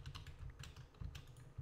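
Rapid computer keyboard typing during a HardcoreGames match, a steady run of close, crisp keystrokes with bursts of quicker presses.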